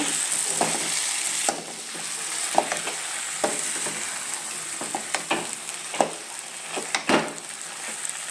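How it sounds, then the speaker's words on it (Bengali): Potatoes and eggs are stirred in a frying pan without water, a continuous close sizzle broken by repeated scraping clacks of the spatula at an uneven rhythm. "এখন এরকম করে একটু নাড়াচাড়া করে নেব"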